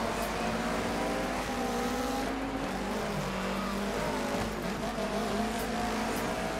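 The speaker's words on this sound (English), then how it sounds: "There goes the Mitsubishi, very wide around that corner." Rally cars race in Dirt 3 during a rallycross event, with a Mitsubishi swinging wide through a corner alongside Ford RS200 and Focus ST cars; steady layered engine drone runs throughout, with a car passing by.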